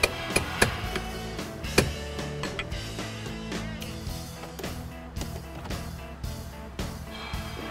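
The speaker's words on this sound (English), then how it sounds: "use a small hammer and a punch. We're gonna drive out the pin that secures the factory shift lever" Several sharp metallic taps of a small hammer on a punch, driving out the pin securing a factory shift lever, ring out over a busy background of steady tonal sound, loudest early on and then fading into the mix.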